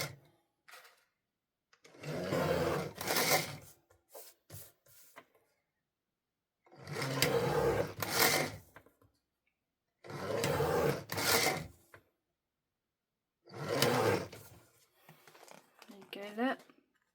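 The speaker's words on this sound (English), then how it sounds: "Right, so I'm just going to trim the edges." Paper card edges are trimmed with a cutting tool in four close bursts of sliding, rasping cuts separated by pauses, with soft handling sounds between them.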